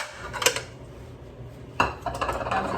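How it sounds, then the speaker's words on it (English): Homegrown garden green beans, peeled and washed, dropped into a pot, with clattering metal knocks and scraping rattles of the cookware in two short bursts close by. "And I'm gonna put them in a pot."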